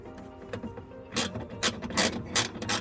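A ratchet wrench tightens a bolt on the door window regulator of a Nissan Qashqai, giving a few quick mechanical clicking bursts close by in a quiet space.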